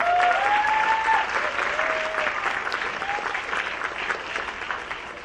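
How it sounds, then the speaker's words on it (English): Audience applause at the 2023 EARJ Gavea end-of-year school band presentation, a dense even roar of clapping that starts strong and slowly tapers, with faint whistles near the start. "I'd love a round of applause for her."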